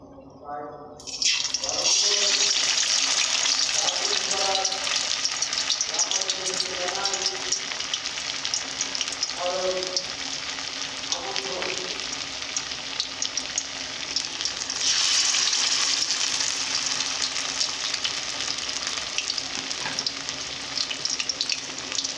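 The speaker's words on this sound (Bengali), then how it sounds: "হালকা আঁচে ভালো করে এইভাবে ভেজে নেব মাংসের পেস্তাগুলো এক এক করে উল্টিয়ে দেব" Meat masala paste frying over low heat in hot oil in a kadai, a loud dense sizzle running continuously close up, with brief soft clinks as pieces are turned one by one.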